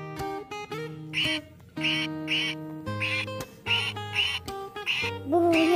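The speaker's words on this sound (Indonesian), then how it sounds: "Bunyi bebeknya." Repeated duck quacks, one after another in short bursts over a bright, bouncy tune, from a toy duck being loaded onto a wobbly toy truck.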